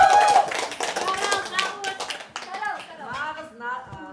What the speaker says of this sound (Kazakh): Наставник деп шапалақ ұрып қойыңыздар Айнұр Бектұрғанға